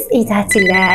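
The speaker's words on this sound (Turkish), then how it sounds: "Pardon telefon." A telephone rings during a Barbie Dream House toy play scene set in a hotel, a bright electronic tone sounding under a speaking voice.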